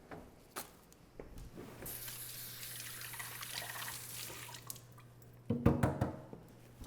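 Tap water runs steadily into a sink while shells are rinsed off, a soft hissing stream lasting a few seconds, followed by close clattering and handling noises after the flow stops.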